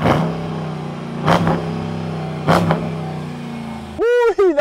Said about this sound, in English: I'm gonna cold start it up for you.